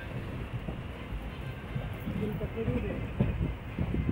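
Inside a moving passenger train travelling from Bangalore toward the Konkan coast: a steady low rumble and rattle of the carriage with rhythmic clatter from the wheels, heard up close.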